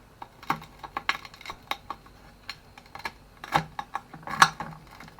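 A knife saws through a crispy homemade ciabatta loaf, giving a series of sharp, dry crackling crunches in an irregular rhythm, close and fairly loud, with a couple of bigger cracks near the end and no talking.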